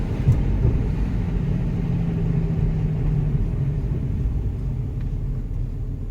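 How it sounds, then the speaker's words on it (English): A 150,000-mile Infiniti G35 engine idling with a steady low rumble and a mild, sustained rise in revs, heard close and continuous without any talk. "I'm gonna rev it out a little bit here so you can really hear"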